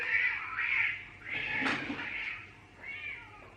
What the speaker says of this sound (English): our neighborhood cats hate each other.